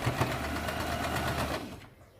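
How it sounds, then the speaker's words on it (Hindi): Sewing machine stitching along the folded edge of a newborn baby's pant, a steady close whirring run for about a second and a half that then stops abruptly. "ये देखिए, यहाँ पे हम सिलाई लगाना शुरू करते हैं।"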